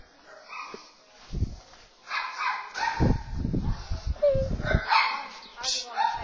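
A dog yips, whimpers and barks in short bursts during an outing, mixed in among several people talking close by.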